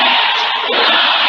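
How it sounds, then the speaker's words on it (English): A large political rally crowd in Grand Rapids roars for Democratic vice presidential nominee Tim Walz, a loud, dense wall of cheering and shouting that barely dips before surging again. "The crowd erupted at a rally in Grand Rapids for Democratic vice presidential nominee Tim Walz."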